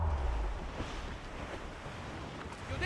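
Sailing ship at full speed in Assassin's Creed Rogue, with a steady rush of wind and waves washing against the hull, fairly quiet and continuous with no voices.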